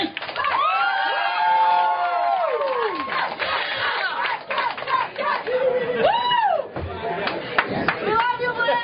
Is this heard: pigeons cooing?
no